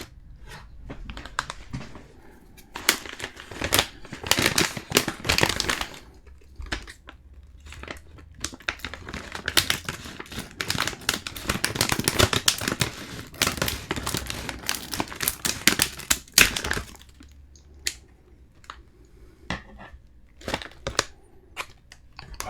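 Crinkly plastic crackling and crunching in bursts, with sharp scissor snips and rustles of a pizza-flavored snack bag being cut and pulled open close by.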